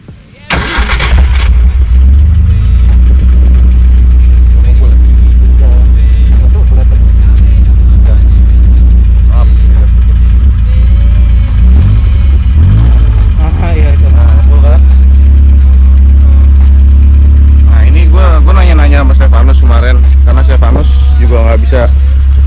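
An old, smoking Bemo with suspected worn piston rings cranks over on its starter and catches, then settles into a loud, steady, low-pitched running rumble, with people talking over it.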